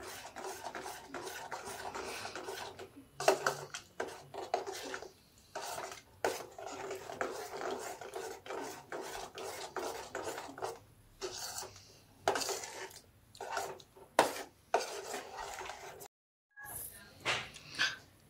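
Jaggery being stirred into pitha batter in a pot: repeated scraping and rubbing strokes at close range, uneven and intermittent, with brief pauses and one short gap near the end.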